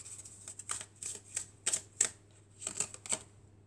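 Oracle cards are shuffled in a quiet room, making a series of quick, crisp snaps and riffles in irregular bursts, close and soft, with no voices.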